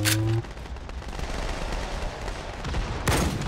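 Gunfire in the video game Halo 5 during a sniper rifle moment: a dense, continuous crackle of shots and explosive bursts, loud and close, with a sharper blast near the end.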